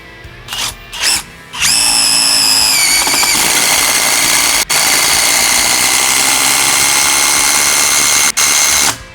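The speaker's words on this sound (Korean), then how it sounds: "육각 볼트도 이게 원래 나무형이 아닌데도 지금 박히는 거 보이시죠" A Stanley cordless drill drives a hex bolt into a block of solid wood outdoors, a loud, steady high-pitched motor whine after a few short trigger bursts, running continuously for several seconds with two brief dips.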